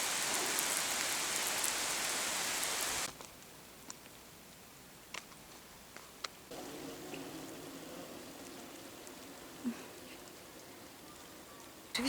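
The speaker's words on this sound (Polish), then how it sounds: "Pada coraz mocniej." Heavy storm rain pours in a dense loud hiss for a few seconds, then drops to a softer steady patter with occasional sharp drips close by.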